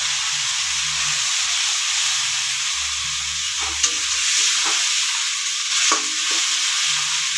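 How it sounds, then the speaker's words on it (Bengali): Onion, garlic, ginger and chili paste sizzles and hisses continuously in hot tempering oil while being stirred for a jackfruit and shrimp curry, with occasional soft scrapes of a spatula and low background hum. "এবার দিয়ে দিচ্ছি এর মধ্যে আগে থেকে পেঁয়াজ রসুন আদা দিয়ে লঙ্কা পেস্টটা করেছিলাম সেই পেস্টটা।"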